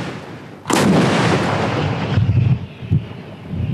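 Artillery guns and mortars firing on guerrilla positions in jungle and hill country near Batticaloa in eastern Sri Lanka: one heavy, loud boom with a long rumbling decay, followed by duller thuds.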